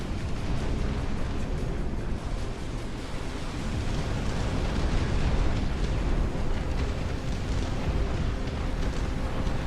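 Heavy bombs exploding on building targets in the Dust Front real-time strategy game, a dense, continuous rumbling roar of overlapping blasts that stays loud and broadband throughout, with no talking.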